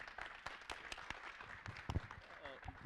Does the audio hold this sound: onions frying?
no